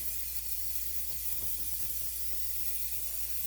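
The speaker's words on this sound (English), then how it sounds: "Just spray vegetable oil." Non-stick vegetable oil sprays into a waffle iron as a steady, faint, airy hiss that holds evenly for a few seconds without any talk.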